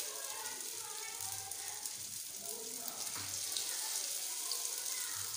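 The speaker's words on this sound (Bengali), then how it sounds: "এক পাশটা ভালোভাবে ভেজে নিয়ে তারপরে অপর পাশটা উল্টাতে হবে" Aloo tikki patties fry in a pan with a steady, moderately quiet sizzle that continues throughout without pauses.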